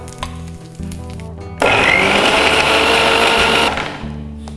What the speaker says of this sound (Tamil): இப்போ இதை அரைச்சி எடுத்துக்கலாம். இப்போ இதை நம்ம ஜாரில் போட்டுக்கலாம்.